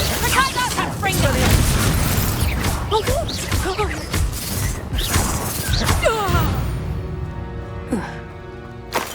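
Fire spell Confringo cast in the wizarding game Hogwarts Legacy, with loud bursts, whooshes and crashing impacts packed densely over busy combat audio, while voices talk over the action.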